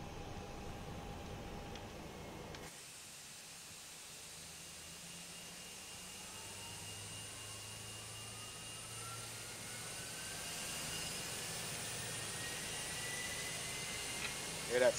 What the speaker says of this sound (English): Alright, disconnect and let's start the next engine.